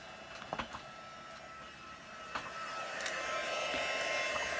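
A heat tool blows steadily while melting embossing powder on a handmade card, giving a continuous close buzzing whir with a few faint clicks and knocks on top.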